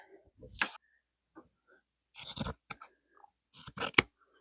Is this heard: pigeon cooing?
no